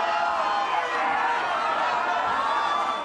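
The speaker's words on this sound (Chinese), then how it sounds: "现场立刻爆出一片支持欢呼声" A crowd of supporters cheering outside a Manhattan hotel as a politician steps out of a car, a dense, steady wall of voices and shouts holding loud and close for the whole stretch.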